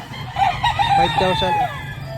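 A two-year-old stag rooster with pumpkin-gold colouring crows loudly and close at a busy rooster market in Batangas, one drawn-out call with a stepped, wavering pitch over a steady low crowd murmur.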